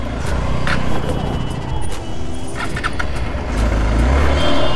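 Motorcycle cruising along a main road on a test ride, steady engine and wind rumble throughout with a louder low surge near the end, heard close from the rider's position while he talks.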